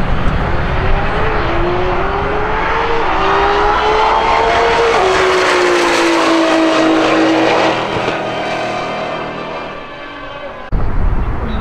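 Race cars roll racing at the Bandimere drag strip near Denver roar past in a loud, sustained engine blast with rising and falling pitch, then fade away into crowd-level noise before another burst.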